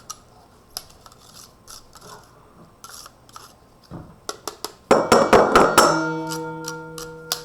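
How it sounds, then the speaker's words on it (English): Tool edges scrape and tap against a bowl while ingredients are pushed into a Philly marinade, starting as sparse light clicks, then turning into a louder burst of rapid scraping strokes with ringing clinks near the end. "go ahead and scrape all that into my marinade"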